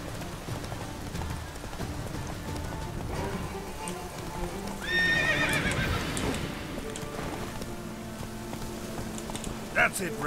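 Roach the horse trots with clip-clopping hooves in a video game, then lets out a loud whinny midway, with rain-like texture and speech in the background.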